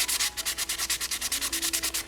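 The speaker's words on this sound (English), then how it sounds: "I'm sanding this dry now just because I want to pick up any little flaws" Dry sandpaper scrubbing back and forth over a painted Yamaha FZ600 motorcycle part in quick, steady strokes, a rhythmic rasping that repeats evenly throughout, close up.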